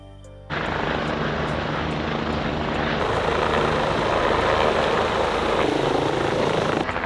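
A Bell 505 helicopter lands at a remote spot, its loud, steady roar of turbine and rotor noise starting after half a second and holding continuously, close and unbroken, with no talk over it.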